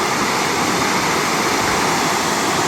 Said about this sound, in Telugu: కానీ వాటర్ ఫాల్స్ అంతకుమించి ఉంది